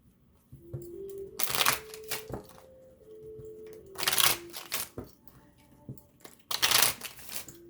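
A deck of cards is shuffled close up in three quick riffle bursts, separated by softer handling sounds, with a low tone humming in the background.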